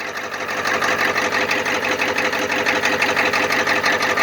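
An old engine idling shortly after a cold start, fitted with a road draft tube, running with a fast, even, rattly chatter at close range and steady loudness, no voices.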